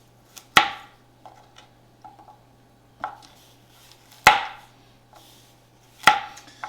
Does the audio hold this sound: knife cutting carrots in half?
yes